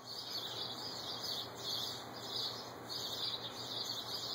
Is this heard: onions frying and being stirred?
no